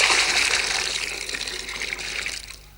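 Water sprayed from a firefighters' hose gushes in a loud, steady hissing rush that gradually tapers off toward the end, with no talking.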